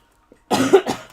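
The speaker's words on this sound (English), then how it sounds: "Yes, I'm still coughing." A faint click, then one harsh cough followed by a shorter second cough, close and clear in a quiet room.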